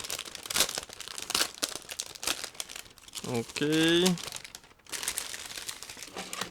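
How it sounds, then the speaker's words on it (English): Crinkling plastic rustles close by, broken by a short rising zip-like rip as a resealable bag of scale model kit parts is pulled open; a voice speaks briefly. "it's a resealable plastic bag, so it should be easy and quick to open"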